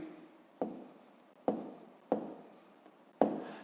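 A pen writes numbers on paper during a fifth-grade math exercise, giving four quiet separate scratching strokes, each starting with a soft tap and trailing off, close and faint.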